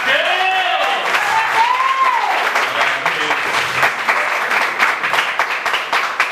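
A church congregation applauding in worship, a steady dense wash of clapping that stays loud throughout, with voices singing and calling out above it.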